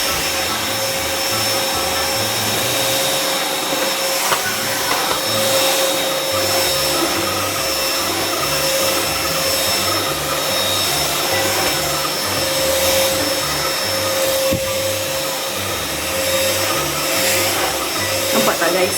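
A cordless portable AIRBOT iRoom Cyclone vacuum cleaner rated at 19kPa runs continuously up close with a steady whirring motor drone and a high whine, its pitch wavering slightly as it moves over a surface.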